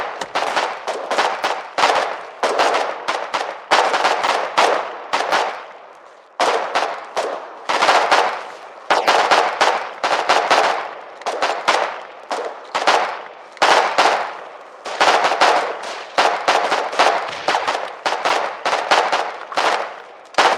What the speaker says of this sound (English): This is almost a Napoleonic firing line.